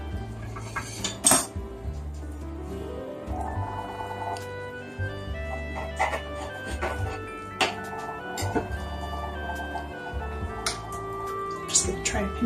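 Pizza rolls are set down on a foil-lined cookie sheet, giving clinks and crinkly taps of metal and foil, with brief rustling and quiet handling noise throughout.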